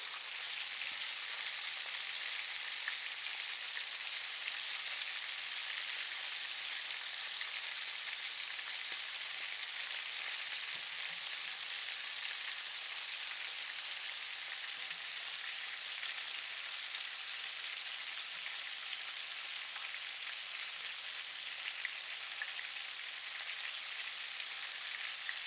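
Shrimp fry in hot oil in a pan for crispy shrimp tacos, giving a steady, even, crackling sizzle that holds at a constant level with no talking.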